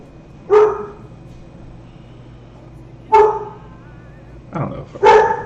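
A pet dog barks indoors: one bark, a second after a pause, then two more in quick succession near the end, each loud and close against a quiet background.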